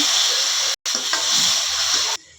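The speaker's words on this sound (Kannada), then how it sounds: "ದೊಡ್ಡ ಟೊಮೆಟೊ ಅದನ್ನ ಹಾಕ್ಕೊತೀನಿ ಚೆನ್ನಾಗಿ ಫ್ರೈ ಮಾಡ್ಕೊಳ್ಳೋಣ" Chopped tomato frying and being stirred in a pan gives a loud, close, steady hiss of sizzling, with one brief break and a drop in level near the end.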